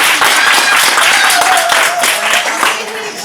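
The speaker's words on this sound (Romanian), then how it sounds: "Îl aplaudăm tare" Children and adults clap loudly and steadily at a children's magician show, brisk applause filling the room with a few voices calling out over it.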